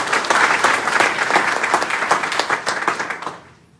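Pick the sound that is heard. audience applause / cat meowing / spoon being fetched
audience applause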